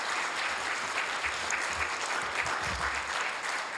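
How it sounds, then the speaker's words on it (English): Audience applause fills a Hayward city council meeting: dense, steady clapping from many hands, holding at an even level for nearly four seconds with no voices on top. "let's give all three of my colleagues a big round of applause"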